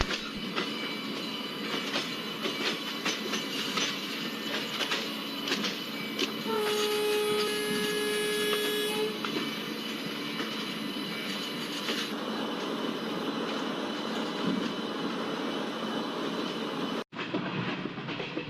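The Nagarcoil Express runs at high speed along the Western Bay route, with a steady rumbling roar and rhythmic clatter of wheels, a brief high tone partway through, close and continuous without talk.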